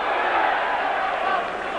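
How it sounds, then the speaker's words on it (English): A boxing crowd at a bout between Victor Cordoba and Christophe Tiozzo roars in a sustained, dense swell of cheering and shouting, loud and distant-sounding, with no distinct voices standing out. "every punch is being signalled home by the crowd there"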